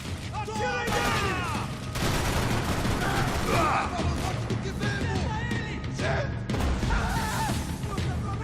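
Rapid bursts of gunfire from a shooting video game crackle continuously with crashes and impacts, mixed with shouted voices and game sounds, loud and dense throughout.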